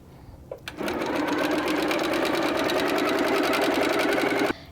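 After a couple of soft handling taps, a sewing machine starts up and runs in a steady, close, continuous whir for about four seconds, piecing quilt fabric with a quarter-inch seam, then stops abruptly.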